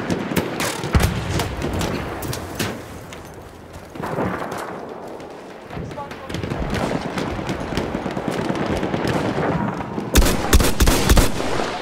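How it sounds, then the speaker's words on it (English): Enemy machine gun fire in a Battlefield 1 conquest match, rapid bursts of automatic shots mixed with explosions and battlefield din, loud and dense throughout. "Machine gun, one of theirs."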